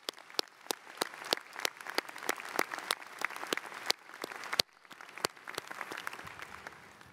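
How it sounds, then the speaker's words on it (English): A law school commencement audience applauds, with steady, sustained clapping from a large crowd at moderate distance, holding at an even level throughout with a few sharper individual claps standing out. "Let's give them one more round of applause for that."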